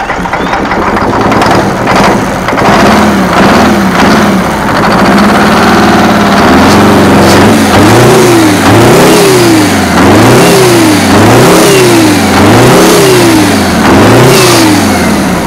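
An old Kenworth cabover truck that sat for decades cranks and fires up, its engine roaring loud and close, then revving repeatedly in rising and falling waves.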